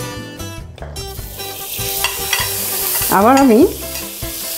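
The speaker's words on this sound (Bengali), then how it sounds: "দুটো পাউরুটি মাখন দিয়ে ভাজব।" Bread slices fry in butter in a pan, with a steady, loud sizzle and hiss throughout and occasional scraping and stirring knocks. A brief tonal whine rises and falls near the end.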